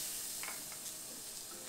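Garlic cloves sizzling in olive oil in a frying pan, a steady close hiss of frying with a few soft stirring scrapes, no talking.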